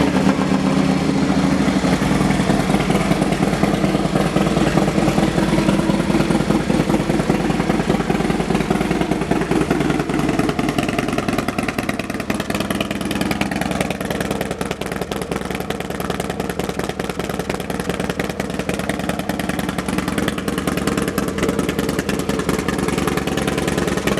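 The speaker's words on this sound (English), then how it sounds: "Let's listen to the pipes." A 2016 Harley-Davidson Low Rider S motorcycle with low mileage idles at a dealership, its exhaust giving a steady, close, rapid-pulsing rumble that continues unbroken with slight shifts in tone.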